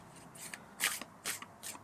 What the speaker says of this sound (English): I usually shuffle 3 more times